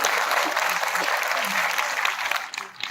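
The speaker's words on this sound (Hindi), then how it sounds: "एक बार ताली बजा दीजिए" A live audience at a Hindi comedy poetry recital applauds, a dense, steady wash of clapping that stays loud and fairly even for three seconds before thinning slightly at the end.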